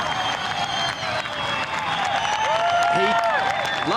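A beach crowd at a professional surf event in Sydney cheers and applauds a surfer's aerial, a dense, sustained roar with whistles rising over it, heard from a distance under a commentator's voice.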